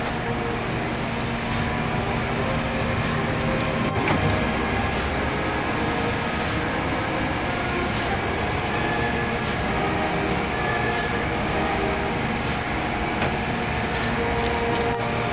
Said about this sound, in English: Press start button to start surface grinding.